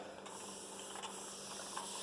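A faint, soft hiss of a spray bottle misting freshly poured goat milk soap, a few quiet spritzes blending into a low steady background.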